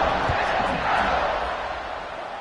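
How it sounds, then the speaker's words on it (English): Stadium crowd in the video game College Football 26 (UAB game), a loud, dense wash of cheering and roaring voices after a score, steady and slightly fading. "this crowd is buzzing after that last score"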